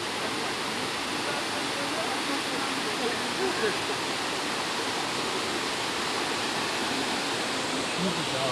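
Steady roar of the first in a series of seven waterfalls, a broadband rush of falling water filling the scene without pause at an even, moderately loud level.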